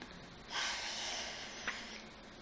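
A storyteller's voice imitates a huge ogre yawning: a long, breathy, drawn-out exhale lasting over a second, ending in a short snort-like catch before fading back to quiet.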